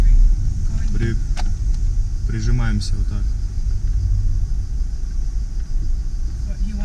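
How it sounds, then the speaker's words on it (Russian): A bus passes close on a narrow mountain road while the car squeezes against a rock wall, its steady engine rumble filling the clip under a man's speech. "Вот, едет автобус,"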